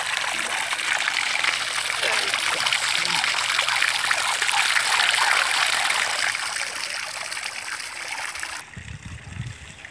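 Water gushes steadily from a solar-powered irrigation pump that feeds a drip irrigation system and delivers up to 2,500 liters per hour, a constant close splashing rush that cuts off abruptly near the end.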